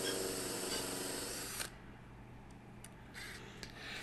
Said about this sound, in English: So I'm just drilling a hole,